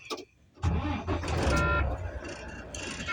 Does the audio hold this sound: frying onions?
no